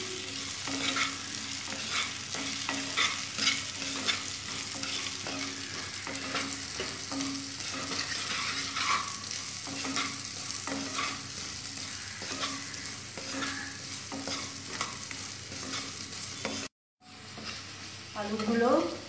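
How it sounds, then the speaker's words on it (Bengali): Potato pieces fry in oil while being stirred, a continuous sizzle broken by repeated scraping strokes of a spatula in the pan, with a brief dropout near the end and faint talk in the background. "আলুগুলো ভাজা হয়ে গেছে"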